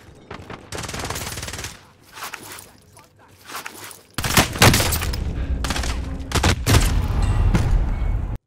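Rapid automatic gunfire in the Call of Duty Warzone video game, a long burst followed by a quieter gap, then loud, sustained volleys with crackling single shots, close and harsh.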